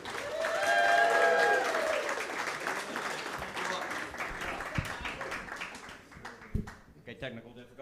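A comedy club crowd claps and cheers loudly for the next comic, the applause peaking early and then tapering off, with a performer's voice speaking over the fading clapping.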